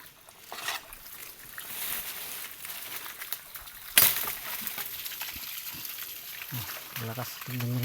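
Strong water rushes steadily from a mountain-fed irrigation pipe, a continuous hissing gush heard close by, with voices talking over it.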